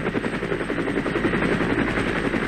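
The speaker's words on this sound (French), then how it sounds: "Il voit les hélicoptères américains approcher." American helicopters approaching in Vietnam War footage, a loud continuous rapid thudding rotor chop that throbs steadily with no voices.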